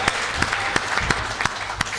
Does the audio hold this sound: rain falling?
no